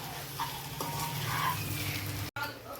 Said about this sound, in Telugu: ఇవి కూడా కొంచెం ఉల్లిపాయలతో పాటు బాగా వేయించుకుందామండి గుడ్లు కూడా వేగుతాయి ఇప్పుడు